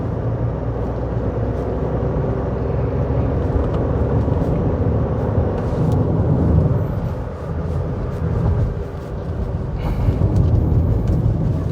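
A 2025 Proton X70 Premium-X SUV climbing a steep road toward Genting, its engine held at high revs in a loud, steady drone with road and wind rumble that swells and eases slightly throughout.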